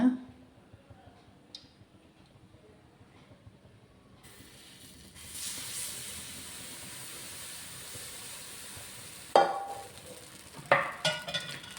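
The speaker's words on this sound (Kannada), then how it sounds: "ಈಗ ಮಣ್ಣಿನ ಪಾತ್ರೆ ಚೆನ್ನಾಗಿ ಬಿಸಿಯಾಗಿದೆ ಇವಾಗ ನಾವು ಹಿಟ್ಟನ್ನು ಹಾಕೋಣ" Batter hits a hot clay pot greased with coconut oil, bursting into a steady sizzling hiss that holds for several seconds, followed by sharper clinks and scraping of utensils nearby.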